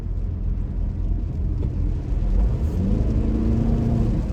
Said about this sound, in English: Go faster, gasoline kicks in.